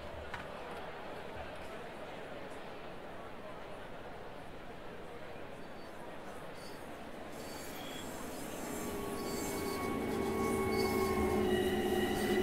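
LIRR train in Train Sim World 4 running steadily with a broad rumble and faint wheel squeal, swelling louder toward the end, with talk over it.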